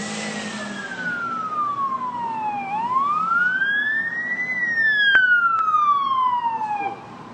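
Police car siren wailing loudly and steadily, its pitch sweeping down, up and down again in long smooth glides, with road traffic noise beneath and a brief drop-off at the end.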